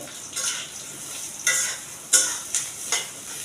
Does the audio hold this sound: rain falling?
no